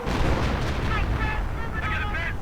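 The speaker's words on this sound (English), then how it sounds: "Madin2 managed to catch the snipers by sheer luck with artillery" Artillery fire in a one-on-one real-time strategy game match: dense, continuous booming and blasts with a few tonal game effects layered over the rumble.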